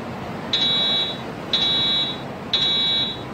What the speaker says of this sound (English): this is a simulated alarm